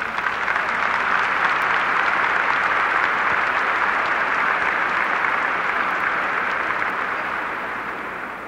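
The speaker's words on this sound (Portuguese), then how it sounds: "Vamos aplaudir essa palavra." Church congregation applauding, a dense, sustained wash of clapping from many hands that holds steady and then slowly tapers off toward the end.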